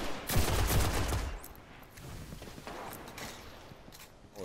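Golden Gun super fired in Destiny, a loud close blast with reverberating crack early on, followed by quieter scattered gunshots and game clatter.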